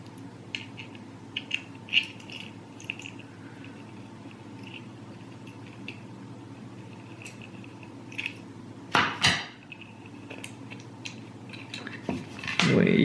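A metal nut clicks and scrapes as it is worked onto the threaded stud of a bipod on a Benjamin Marauder air pistol, with small scattered taps, a couple of louder rattles near the end, and a quiet background hum.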